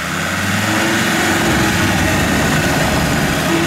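A Land Rover engine idles loudly and steadily on a muddy off-road track, a continuous low rumble with broadband noise and no talk.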